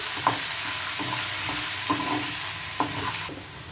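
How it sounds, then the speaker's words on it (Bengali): Potatoes fry with turmeric in a pan, a steady oily sizzle close by, with a spatula stirring and scraping against the metal in a few separate strokes. "আবার একটু নড়িয়ে দিচ্ছি"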